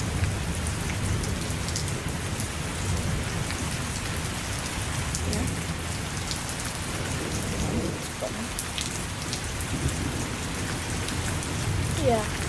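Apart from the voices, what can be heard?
rain falling during a thunderstorm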